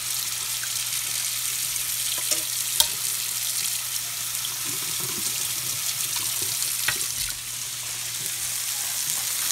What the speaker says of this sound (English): Now we're gonna flip over the burgers.